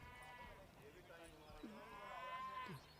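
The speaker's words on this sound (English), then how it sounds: "That sounds like goats." Goat bleats, taken for cattle at first, come through under a cricket commentator's voice at a T10 European Cricket match, with a couple of wavering calls heard over the talk.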